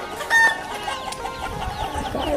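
A chicken clucks in quick, close bursts with a short louder squawk near the start, amid a scuffle of chasing and background bustle.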